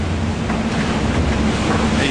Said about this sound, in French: Là en ce moment j'ai encore une mer assez formée